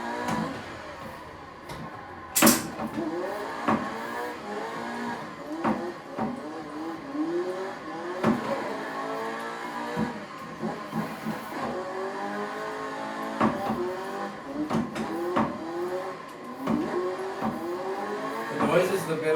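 Car drifting in a racing video game, with engine revving and rising and falling tire squeal throughout, continuous and fairly loud, alongside sharp clicks that could come from a steering wheel and pedals, and occasional background voices.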